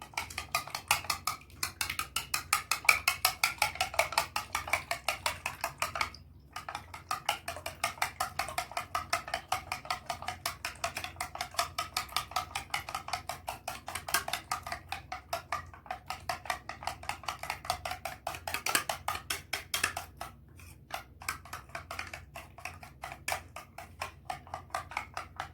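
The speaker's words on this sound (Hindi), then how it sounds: "तीन अंडे लिए हमने, जो कि तोड़ लिए। इनको मिक्स कर लेंगे।" Three cracked eggs are beaten in a bowl, giving a fast, steady run of light clinks and taps that continues with only a few brief pauses, close and unaccompanied by speech.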